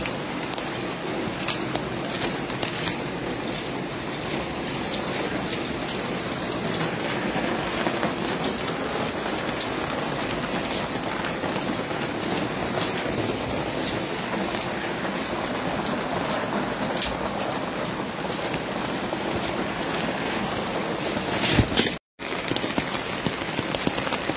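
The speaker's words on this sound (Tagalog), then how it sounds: "Ang lakas ng ulan ngayon." Heavy rain pours down steadily and loudly, a dense continuous hiss with no voices, unbroken except for one brief dropout near the end.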